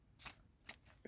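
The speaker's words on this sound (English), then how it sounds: "we're just going to shuffle these up" A deck of playing cards being shuffled at close range: quick riffling bursts near the start and the middle, then another sharp burst at the end, with no talking.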